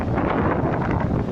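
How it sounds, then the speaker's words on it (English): Strong wind at Waterloo beach near Liverpool, England, buffeting the microphone with a loud, continuous roar that never lets up, with no voice over it. "I hope you can hear me because the wind is crazy"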